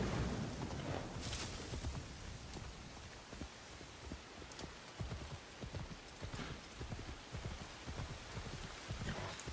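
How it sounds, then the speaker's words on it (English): Rain falls in the video game Assassin's Creed Shadows as a faint, steady hiss, with horse hooves clip-clopping rhythmically alongside it. "It's raining!"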